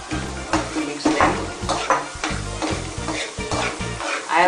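Onions being stirred in a pan of sizzling butter and oil for Mumbai street-style pav bhaji, with steady frying hiss and rhythmic scraping strokes of a utensil against the pan, close and continuous.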